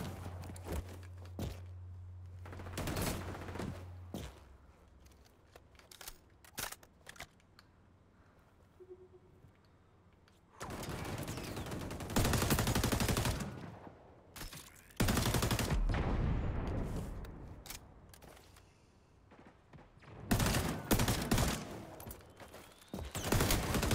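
Gunfire from the XDefiant video game comes in repeated bursts of automatic shots, some long and sustained and others short, loud and close, mixed with footsteps and thumps between the volleys.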